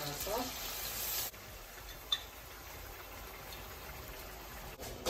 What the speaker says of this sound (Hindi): ये चिकन है हमारा फ्राई हो गया